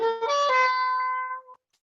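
A slow bebop line, played on a single sustained melodic instrument: a short connected phrase of clear pitched notes, close and alone, ending abruptly after about a second and a half.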